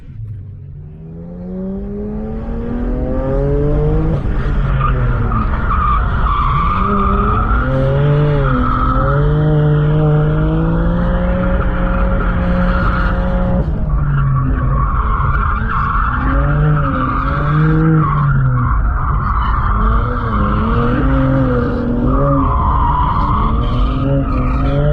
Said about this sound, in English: Oh, it's so good to drift.